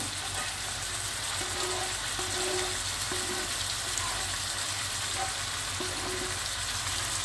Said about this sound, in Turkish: Şimdi daha sonra sosumuzu ilave ediyoruz.